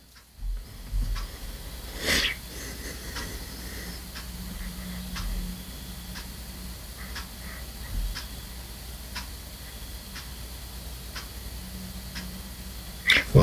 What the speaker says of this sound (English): just as you hear that clock ticking